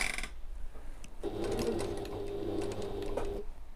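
A sewing machine stitches an evening bag in one steady run of a couple of seconds, close and fairly quiet, after a short start and before a stop.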